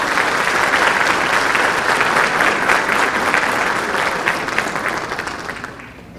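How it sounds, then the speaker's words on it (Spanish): Audience applause at a public administration panel in the Dominican Republic, a dense, steady clapping from a full room that holds for about six seconds and then begins to fade. "Recibamos en este escenario con el cálido aplauso de todos ustedes"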